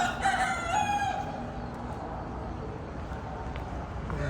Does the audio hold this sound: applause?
no